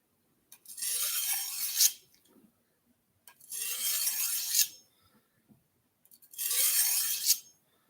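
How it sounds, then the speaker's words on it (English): Three long, even rasping strokes of a knife against a sharpener, each about a second and a half, separated by short pauses, close and clear with no voices. "We're going to do a knife sharpening."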